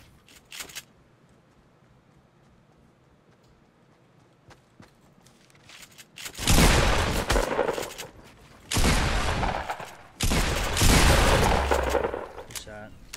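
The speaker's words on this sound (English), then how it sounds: "There's more people shooting at us." Gunfire in Fortnite: after near silence, three loud, dense bursts of rapid shots crackle in sequence during the second half, with brief gaps between them and faint speech early on.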